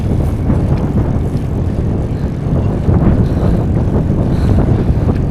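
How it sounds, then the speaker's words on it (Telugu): A strong headwind buffets the microphone of a cyclist on a long-distance ride in India, producing a loud, continuous low roar that gusts slightly without pause. "గాలి అయితే ఆపోజిట్లో వస్తుంది ఎంత దొక్కినా సైకిల్ ముందుకు పోవట్లేదు"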